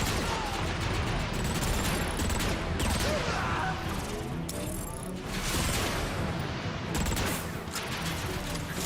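Rockets and guns fire nonstop in Transformers: Fall of Cybertron, a dense close barrage of blasts and rattling shots with heavier explosive thumps breaking through, a voice faintly mixed into the battle.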